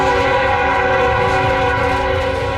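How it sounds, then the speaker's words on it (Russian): A freight train heading north through Mexico sounds its horn in one long, loud, sustained chord, heard close and unbroken over the rumble of the moving cars. "Ждали товарняка на север."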